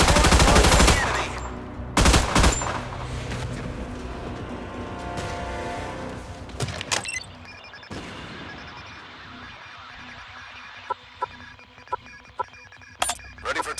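Naval gunfire from warships in the Battleship video game: a heavy opening barrage of booming shots, then sporadic sharp bursts and single cracks over a rumbling background, loud throughout.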